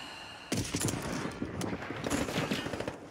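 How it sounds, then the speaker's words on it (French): Bursts of rapid gunfire crackle in quick succession, loud and close, with scattered single shots between the volleys. "Et là, ça tire sur nous."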